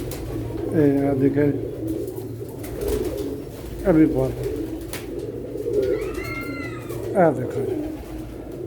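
Banga pigeons, a male with a golden female, coo in short repeated bursts close by, while someone talks over and between the calls.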